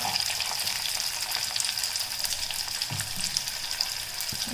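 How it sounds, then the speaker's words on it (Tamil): Shallots, curry leaves and garlic frying in hot oil for a Chettinad green chilli mandi, a dense continuous sizzle with occasional light crackles, close and steady without speech. "சின்ன வெங்காயம் போட்டுக்கலாம். அப்புறம் கருவேப்பிலை, இந்த பூண்டையும் போட்டுக்கலாம்."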